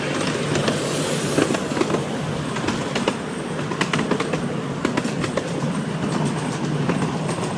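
Inside a moving train, a steady rumble runs under rhythmic wheel clicks and occasional sharp metallic squeals, continuous and fairly loud with no talking.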